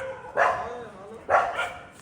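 A street dog in Dwarka barks twice in light drizzle, loud and close, the two barks about a second apart and each trailing off briefly.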